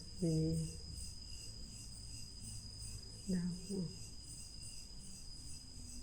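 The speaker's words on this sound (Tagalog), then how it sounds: "Kuliglig lah, kuliglig." Steady high-pitched cicada trilling runs continuously through the night air in the Philippines, with a brief voice-like sound cutting in twice.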